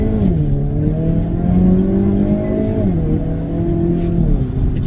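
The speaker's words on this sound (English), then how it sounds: "It bucks the car and adds a little bit of a power cut that is abrupt enough to jolt you" Hyundai car with N Power Shift accelerating hard, loud steady engine drone rising in pitch, then two abrupt drops where gears shift, then climbing again, close and continuous.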